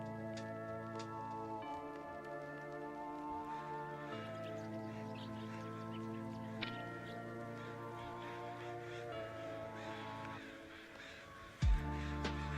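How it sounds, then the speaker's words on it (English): Crows caw outdoors, sharp calls repeating irregularly over a steady tonal drone, with a brief bump near the end. "Oh, sick, there's crows."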